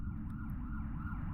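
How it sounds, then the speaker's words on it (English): Police sirens in the video game Earthbound wail in repeating rising and falling sweeps over a low, dense background hum, steady and fairly loud for the whole short stretch. "we hear some police sirens"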